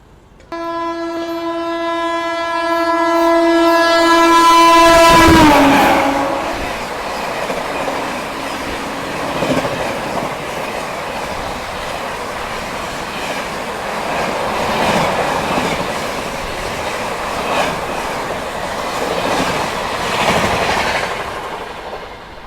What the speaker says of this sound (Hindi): डिब्रूगढ़ राजधानी आ रही है।